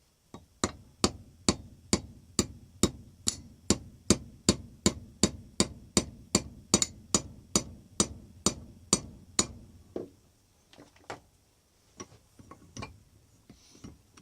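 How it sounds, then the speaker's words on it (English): A hammer taps a pin into the handle of a Monarch vise. About twenty-five sharp metallic strikes come in an even, rapid rhythm, close and loud, then a few lighter scattered taps follow. "I gotta hammer that pin in a little further"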